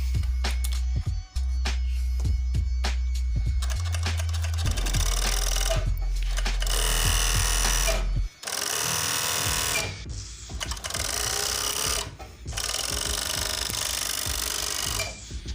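A Pico sewing machine stitching with the stitch length set to 3.5, a loud close mechanical whir and chatter that runs in long bursts broken by short stops, with a low motor hum under the first part.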